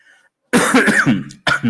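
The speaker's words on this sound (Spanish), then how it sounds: "tenemos un poquito de tos acá" A close, loud burst of harsh coughing, a rough throaty hack that runs for about a second, followed by a brief pause and another short cough.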